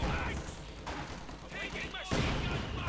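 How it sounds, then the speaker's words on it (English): Mortars and small arms firing in the WWII strategy game Company of Heroes 2, a dense, continuous clatter of shots and muffled blasts with a louder burst near the end, under a commentator's voice. "We got 2 mortars firing here as well."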